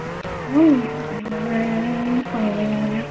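Car drifting in Roblox Jailbreak: a revving engine holds a steady tone while tires squeal in a short rising skid, then the motor carries on loud and close with no talk.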